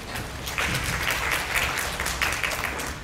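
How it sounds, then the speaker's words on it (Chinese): Audience applause greets a young speaker at a working holiday information session in Tainan, a steady, dense clatter of many hands clapping that carries evenly through the whole stretch with no voices over it. "我们掌声欢迎"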